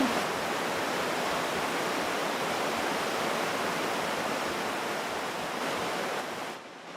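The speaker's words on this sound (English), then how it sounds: "Sounds like a waterfall." A waterfall in the video game Kenshi roars as a steady, dense rush of water, loud and unbroken before it drops away abruptly at the end.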